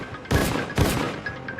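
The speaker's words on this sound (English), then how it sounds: "heard a bunch of gunshots" A burst of gunshots in a shooting, two loud broadband blasts about half a second apart, each trailing off in echoing noise.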